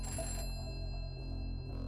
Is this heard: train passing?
no